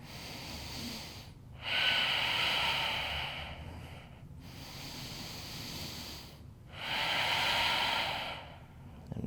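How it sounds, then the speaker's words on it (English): Deep belly breathing during a strength yoga session, two slow, long, airy breaths in and out, close and soft, separated by brief pauses. "Breathing into the belly to feel an expanse."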